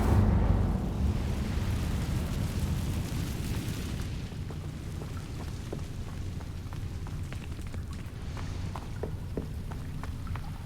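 An Incendio fire spell is cast in Hogwarts Legacy, and a roaring, crackling burst of flame fills the scene. It starts loud and keeps a dense, steady whoosh with small scattered pops.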